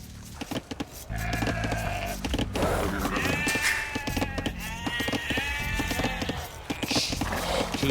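Sheep bleat in the Age of Empires II video game, several wavering bleats in a row over busy game sounds with clicks and hoof-like tapping, fairly close and clear.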